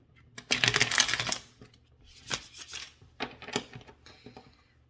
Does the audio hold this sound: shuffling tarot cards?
yes